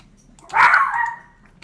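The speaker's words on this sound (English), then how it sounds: "I'm really sorry about the barking." A dog gives a single loud, close bark, a short sharp yelp that trails off quickly in a quiet room.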